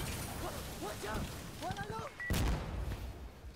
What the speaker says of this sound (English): Rockets streaming across.